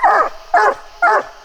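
Coonhounds bark at a raccoon treed in a big tree during a memorial coon hunt in Kentucky, three loud, close barks in a steady rhythm about half a second apart.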